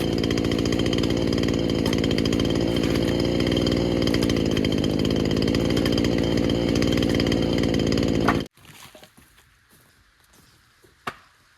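A chainsaw runs hard while cutting slab wood at a northern Minnesota homestead woodshed, a loud, close, sustained buzzing roar for about eight seconds that stops abruptly, followed by quiet outdoor ambience and a single sharp knock.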